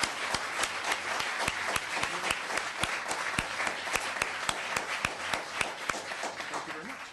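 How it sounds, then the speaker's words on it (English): Applause at a town council meeting: a modest group claps with sharp, distinct hand claps in a quick irregular patter that holds at even loudness and tapers slightly near the end. "let's give him a round of applause"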